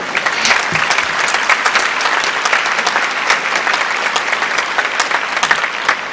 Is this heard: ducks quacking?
no